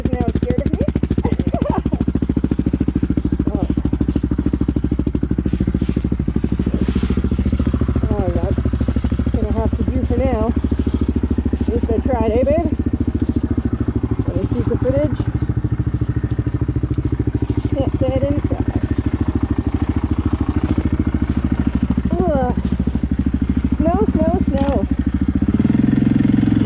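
A Yamaha Kodiak 700 EPS SE ATV engine drones steadily up close, crackling and rumbling through a throaty aftermarket exhaust, while a person talks over it at intervals.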